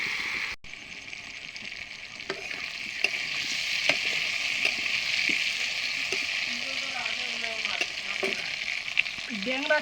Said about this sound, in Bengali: আমার আলুলা লাল লাল করে ভাজা হয়ে গেছে